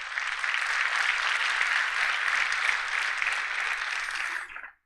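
An audience at the 2022 City of La Porte State of the City Address applauds the city attorneys, an even, full-bodied round of clapping that holds steady for several seconds before cutting off abruptly.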